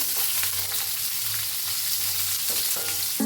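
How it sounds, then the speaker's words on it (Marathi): Mustard seeds and cumin sizzle in hot oil as amla roasts for an amla chutney: a steady close frying hiss with a few faint stirring scrapes and no voices. "तेल चांगलं तापलंय ह्याच्यात एक बारका चमचा मोहरी घालूया बारका चमचा जिरं ह्याच्यात घालूया आवळा त्याला भाजून घेऊया"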